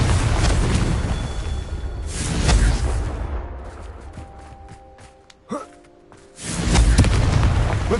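Confringo fire spell explosions in Hogwarts Legacy, heavy booming bursts at the start and again near the end, with a quieter sustained rumble between them and a brief sharp hit in the middle.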